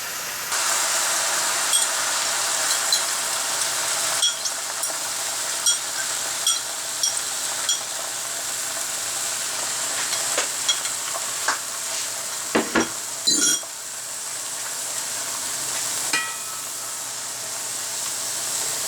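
Continuous loud sizzling of omelet egg mixture in a hot frying pan, with intermittent scraping and stirring clicks from a utensil throughout.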